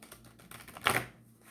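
Brief riffle of a deck of playing cards being shuffled: a soft run of light ticking flicks that builds into one quick burst of card rustle, close and quiet.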